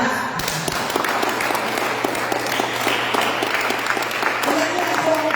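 Church congregation applauding steadily at a worship session, a dense sustained clapping wash with faint voices mixed in throughout.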